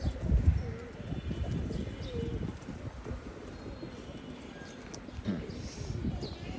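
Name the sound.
pigeon cooing in a loft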